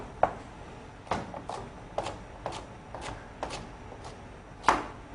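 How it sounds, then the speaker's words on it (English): A knife roughly chops leek and celery on a cutting board for vegetable stock, about a dozen close, crisp knocks in an even, unhurried rhythm. "I roughly chop off everything in like rough sizes"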